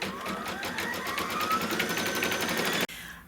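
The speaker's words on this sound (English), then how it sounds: "And this will be the final stitch out for this part of the design." A computerized embroidery machine stitches out part of a Pot O' Gold jar topper design, its needle hammering in a rapid, steady rhythm close by before stopping abruptly near the end, with no talk.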